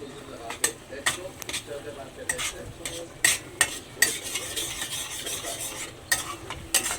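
Curd being stirred into masala in a pan for a quick paneer curry, with repeated scraping strokes of a spoon against the pan and a soft sizzle underneath, up close and fairly loud.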